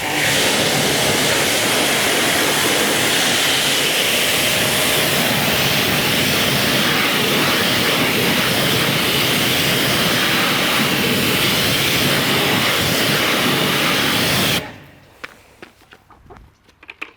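Loud, steady broadband hiss of a pressure washer spraying a Lamborghini Huracan Performante's wheel for about fifteen seconds close by, then cutting off abruptly, leaving faint clicks and drips.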